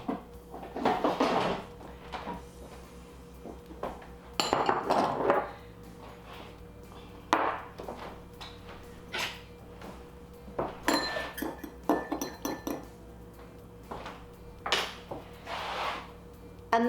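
Crispy food is served onto plates with repeated clinks and scrapes of dishes and cutlery, in scattered bursts close by, with little talk.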